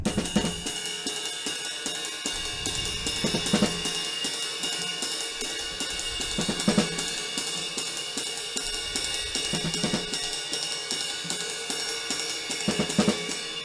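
A drum kit plays a steady groove with regular accented hits and cymbal wash, repeating in a syncopated pattern throughout, with no talking.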